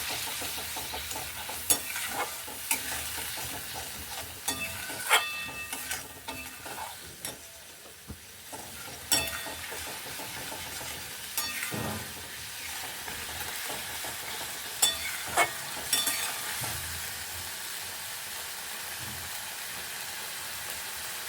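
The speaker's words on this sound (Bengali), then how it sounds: "তারপর এটাকে একটু ভালো করে ভেজে নেব" Soybean kofta curry mixture fries in oil in a pan, giving a continuous close sizzle broken by intermittent stirring scrapes and clatters, with no voices.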